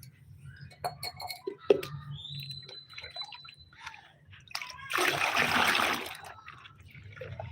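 Fertilizer water is poured onto the soil of a potted hibiscus plant in one loud, close splashing pour lasting about a second. Small clinks and drips come before and after it.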